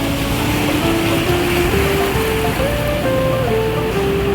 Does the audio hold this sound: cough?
no